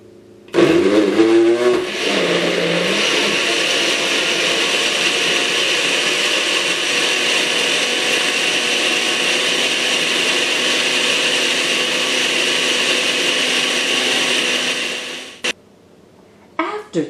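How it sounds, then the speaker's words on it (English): A blender runs at high speed on pumpkin cream cheese flan ingredients, starting with a brief surge, then a loud, steady whir for about thirteen seconds before cutting off, followed by a faint clatter. "Cover blender with lid and blend all the ingredients at high speed until a smooth consistency"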